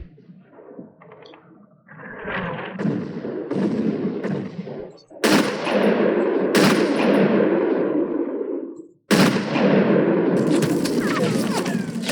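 Enemy gunfire in the Sniper Elite video game comes as loud bursts of rapid shots and booming impacts, starting faint and scattered, then building into heavy sustained volleys broken by a brief pause.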